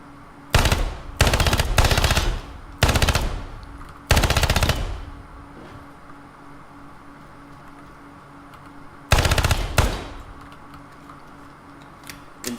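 An AR-type rifle is hip-fired in the tactical shooter game Ground Branch: several loud, rapid automatic bursts come in quick succession, then a long quiet gap before one more burst.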